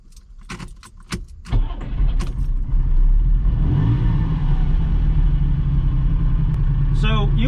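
A low-mileage Ferrari Dino engine idles loud and close with a steady low rumble, stumbling into an uneven boof boof; a few sharp clicks and jangles come first, and a higher whine rises near the end.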